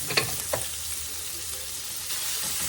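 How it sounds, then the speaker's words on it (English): Bacon crisping in a pan for fried collard greens gives a steady, close frying sizzle, with a couple of soft utensil scrapes near the start and no talking. "But I'm going to get this bacon cooking here."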